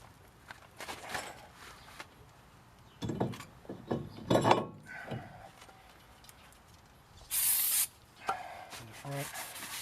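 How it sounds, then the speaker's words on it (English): Brake cleaner is sprayed onto newly manufactured garage parts to clear an oily coating, one short pressurized hiss among quiet rubbing and wiping sounds and scattered handling knocks, faint and close. "Some brake clean, wipe them all off."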